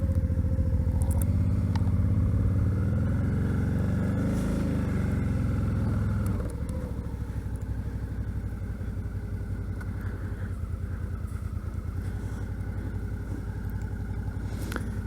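A Suzuki V-Strom 650 motorcycle engine drones steadily while riding, a loud, continuous low hum that shifts pitch slightly partway through as the rider changes speed, with wind rush over the top throughout.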